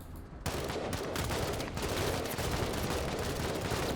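Sustained automatic gunfire in the sci-fi turn-based tactics game Menace, a dense, continuous volley of overlapping shots that erupts after a brief lull and rattles on steadily and loud to the end.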